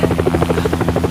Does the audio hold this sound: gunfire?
no